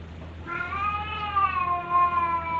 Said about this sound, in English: Is that why the cat's crying?